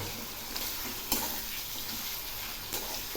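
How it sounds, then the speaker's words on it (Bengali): Kashmiri chili powder and coriander powder sizzling in a pan as spices are stirred for a Bengali-style kochu dish, a soft steady fry with a few faint scraping stirs, close and without talk. "এবার আমি এই মশলাগুলো খুব ভালো করে কষিয়ে নেব।"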